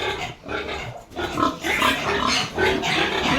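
A big boar grunts and snorts continuously up close on a farm, rough guttural noises rising and falling, with no speech.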